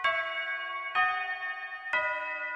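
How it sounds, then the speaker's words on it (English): A school bell signals lunch with three evenly spaced rings, each a bright metallic strike with a long sustained ringing tone between them, clear and fairly close. "that is the bell for lunch"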